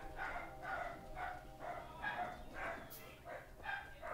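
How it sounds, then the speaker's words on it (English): Several dogs barking repeatedly in a rhythmic series under steady background noise and a game soundtrack, moderately loud throughout. "The dogs are going crazy."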